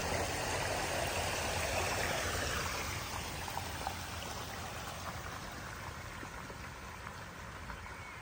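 Water pours and streams out of a flooded vehicle, a steady splashing rush that is strongest early on and then eases to a lighter trickle with small drips, fairly faint and free of talk.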